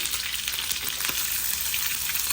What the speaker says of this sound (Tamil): நல்லா எண்ணெய் கொதிச்சுட்டு இப்போ நான் இதை போட்டு எடுக்க போகிறேன்.